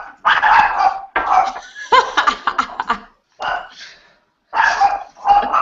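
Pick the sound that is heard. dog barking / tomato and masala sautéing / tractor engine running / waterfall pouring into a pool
dog barking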